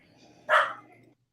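A single sharp dog bark rings out nearby amid a quiet suburban winter setting where people shovel and snow-blow driveways, followed by a faint fading tail.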